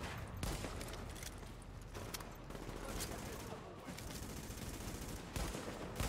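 Gunfire in The Division crackles in quiet, rapid bursts and scattered single shots, some sharper cracks standing out, with a voice talking over the firing.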